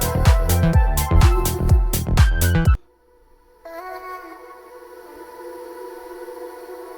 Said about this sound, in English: I automated it to hit the buildup, and it basically did that huge echoing effect that you hear.